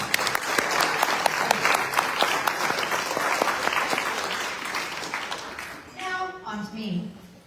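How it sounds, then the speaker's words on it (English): At an award ceremony, an indoor crowd gives a sustained round of applause for the winners and finalists, a dense patter of clapping that slowly dies away as a voice begins speaking near the end. "Please join me one more time in giving all of the winners and finalists a very well-deserved round"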